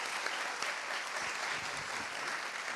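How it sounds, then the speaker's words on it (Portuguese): Dense, steady applause from a crowd at a Brazilian civic event thanking volunteers, close and full throughout without letting up. "uma salva de palmas para todas essas pessoas"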